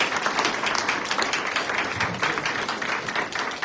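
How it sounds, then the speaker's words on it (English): A plenary session audience claps together for a leader, a dense, even burst of applause that holds steady throughout. "please clap for our fearless leader"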